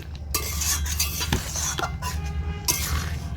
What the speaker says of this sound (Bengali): সব কিছু মিশিয়ে দিচ্ছি